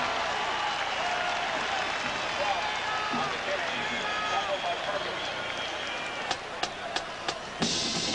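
A large football stadium crowd roars steadily after a first down, a dense wash of cheering and applause that sustains throughout, with a few sharp claps or thuds near the end.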